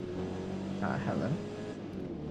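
A car engine revving hard near redline in second gear during a night lap of the Nurburgring, a steady loud drone with a brief rising pitch, heard from inside the cabin with someone talking over it.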